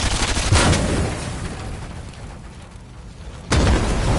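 Explosion in Fortnite, two loud broadband bursts a few seconds apart, the first rumbling and decaying before the second hits sharply, alone without talk.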